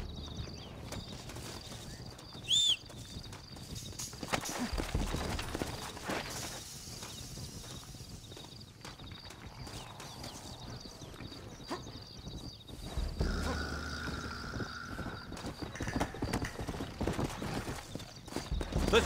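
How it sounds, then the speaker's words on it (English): Hooves clip-clop at a steady walking pace in Red Dead Redemption, fairly close, with a brief whinny early on and ambient game sounds around them. "Looks like Carlos left us some horses"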